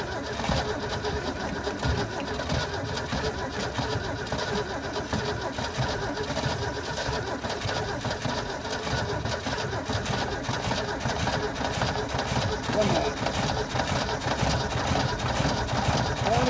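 An old Holden HQ one-tonner, off the road for 29 years, runs with a steady, continuous engine rumble throughout, close and moderately loud, with faint outdoor sounds in the background.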